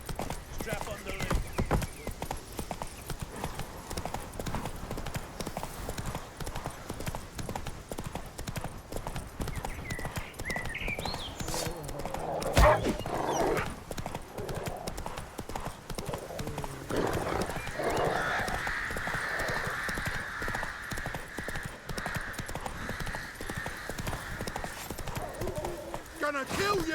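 A horse gallops in The Witcher 3 Next Gen, a rapid, steady clip-clop of hooves with a whinny, while characters' voices and game sounds play over it.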